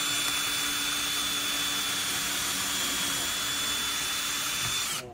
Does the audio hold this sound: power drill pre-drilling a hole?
yes